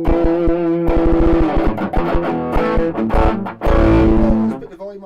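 An ESP LTD Viper 50 electric guitar played through a heavy distortion, loud and saturated, with chugging palm-muted riffs and ringing sustained notes in quick rhythmic bursts.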